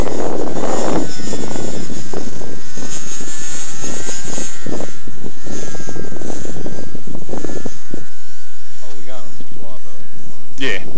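A SPAD CorroWot model airplane flies overhead, its engine droning loud and wavering throughout before the throttle drops near the end, with people talking over it.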